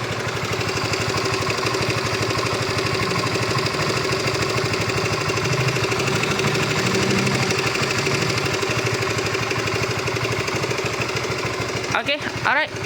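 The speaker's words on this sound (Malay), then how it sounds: "Hari ni motor RS kita ada masalah. Dia bunyi berdengung." A Yamaha RS 150 V2 motorcycle with about 86,000 km idles with a steady, near mechanical drone and a faint hum running unchanged for the whole stretch, ending in a few brief knocks.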